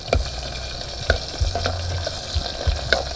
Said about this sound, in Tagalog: igisahin na po natin. Bawang, buyas.